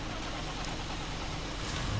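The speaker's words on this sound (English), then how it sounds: "Let's just get this tractor going" Engine of a tractor with a plough in Farming Simulator 25 on the Hutan Pantai map, a steady mid-pitched diesel drone running constantly and close, with no speech over it.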